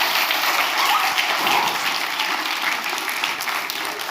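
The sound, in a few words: round of applause for the wise men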